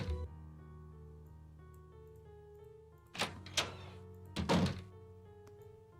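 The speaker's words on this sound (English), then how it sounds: "I closed the door." Door closing in the Nancy Drew game Message in a Haunted Mansion: two dull thunks close together, then a heavier double thud a second later, over a steady low hum and faint ticking.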